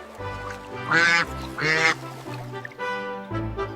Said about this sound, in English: Just then, a white duck came swimming by.